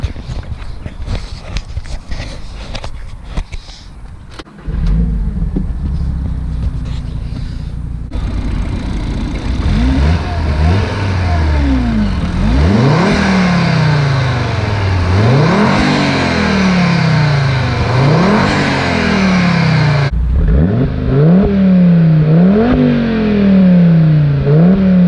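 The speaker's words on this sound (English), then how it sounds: "let me start it up for you." A six-speed Audi TT RS 8J five-cylinder engine cranks and fires up, settles into a loud idle, then revs repeatedly in sharp rising and falling sweeps, close and unmasked.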